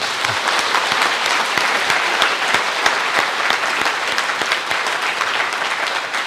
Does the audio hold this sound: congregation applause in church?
yes